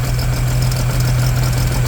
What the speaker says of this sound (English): so we want to get it to tick over better